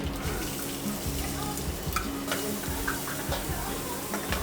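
Mustard seeds and cumin hitting hot oil in a home kitchen, a close, continuous sizzle with scattered sharp crackles and pops over a low background hum.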